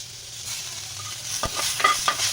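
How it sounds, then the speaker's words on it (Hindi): Tomatoes going into a pan of golden, caramelized frying onions give a steady close sizzle, with a few sharp stirring knocks and clatters toward the end; no one speaks. "अब मैं इसमें डालूंगी हमारा टमाटर"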